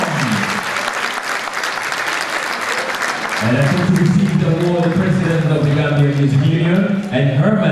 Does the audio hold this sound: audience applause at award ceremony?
yes